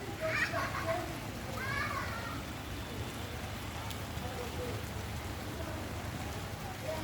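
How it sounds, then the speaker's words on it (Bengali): Steady rain falls at night in Dhaka, an even wash of patter that holds from start to end, with faint voices and children's sounds in the background. "কীরকম বৃষ্টি হচ্ছে?"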